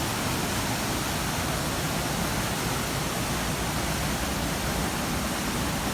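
A waterfall in a forest setting during a trip through Laos or Thailand gives a dense, constant roar of falling water, steady and fairly loud throughout, with no voices over it.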